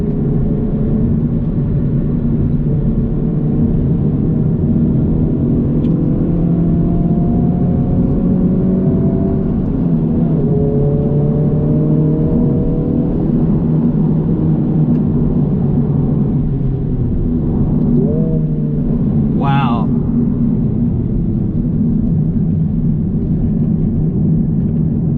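2023 Honda Civic Type R driving hard on a racetrack, a loud continuous engine roar with rising and falling revs through gear changes, heard from inside the car without talk.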